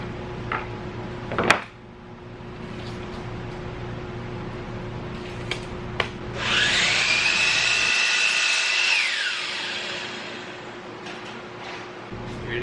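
A power saw cuts through a piece of wood for a kitchen upcycling project, a loud steady whining cut of about three seconds after a couple of sharp knocks, then winding down into quiet room noise.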